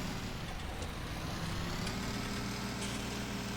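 A tractor engine in Farming Simulator 19 runs steadily while reversing, a low, even idle-like rumble heard alone at moderate distance.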